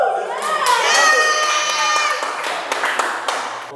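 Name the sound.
children clapping and cheering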